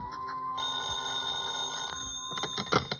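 In a classic detective radio drama, a telephone bell rings in a continuous steady trill at moderate volume, followed by a few clicks and knocks at the end.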